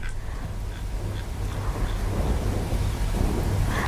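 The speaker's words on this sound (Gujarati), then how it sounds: "દાહોદમાં ભારે વરસાદ" Heavy rain pours steadily over Dahod with low rumbling thunder underneath, a dense continuous wash of sound that swells slightly louder toward the end, with no voices.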